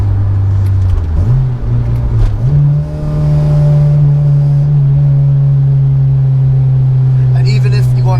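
Acura RSX exhaust drones steadily from inside the car while driving, engine note rising through a couple of gear changes and then holding a loud, even tone, with people talking over it.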